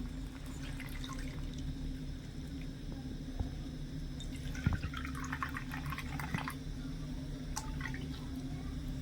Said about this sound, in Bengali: সেই কাপ মেপেই দেড় কাপ দিয়ে দিচ্ছি জাল করা দুধ